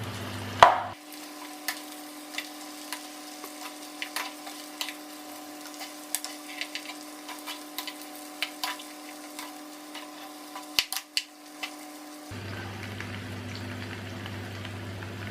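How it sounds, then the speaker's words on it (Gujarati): Okra is stirred in a pan: irregular scrapes and clinks of a spoon over a soft, steady sizzle, with no talking. "તો હવે એની અંદર આપણે આપણા ભીંડા નાખી દઈશું. અને ભીંડાને સારી રીતે મિક્સ કરી લઈશું."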